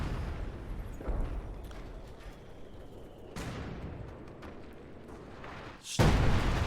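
Sector artillery barrage in the Company of Heroes 2 strategy game, a series of distant booms and rumbling impacts over a steady battle din, with a sharper, louder blast near the end.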